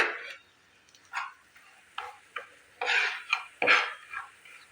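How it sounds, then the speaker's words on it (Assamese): Semolina frying in ghee in a wok, heard as quiet, intermittent bursts of stirring and scraping separated by short pauses, with soft sizzling. "চুজিখিনি মই ভালদৰে ভাজি ল'ম।"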